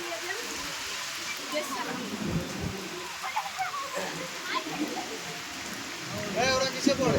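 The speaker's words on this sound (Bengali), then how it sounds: "অনেক বৃষ্টি হচ্ছে এখানে" Steady rain hisses across a college football ground during a match, with scattered drips and splashes close by and voices murmuring faintly underneath.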